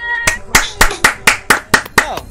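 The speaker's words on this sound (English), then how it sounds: "Round of applause! Really great!" Eight or so loud, close handclaps in a steady, even rhythm over about two seconds, with a voice faintly underneath.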